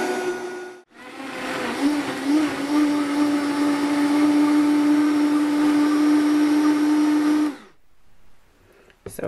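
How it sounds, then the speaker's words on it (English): A countertop blender purees onion with tomatoes for a tomato-based sauce for vegetarian black-eyed peas, whirring as a loud, steady, high-pitched whine for about six seconds before cutting off, with no one talking. "I just puree the onion along with the tomato."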